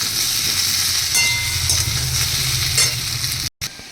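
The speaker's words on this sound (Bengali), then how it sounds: "এবার দেখো যে আমার এগুলো কিন্তু ভাজা হয়ে গেছে" Whole cumin seeds with one dried and one green chilli frying in hot oil, a loud, continuous close-up sizzle with a low rumble underneath, cutting out abruptly for an instant near the end.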